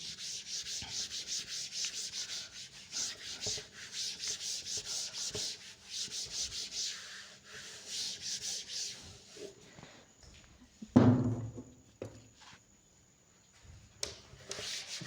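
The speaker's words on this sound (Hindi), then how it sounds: "अच्छा, ये डेफिनेशन भी अब मैं रब कर देता हूँ" Steady rubbing as a written definition is wiped off a classroom board, repeated scrubbing strokes in bursts with short pauses, then a brief knock near the end, with no talking.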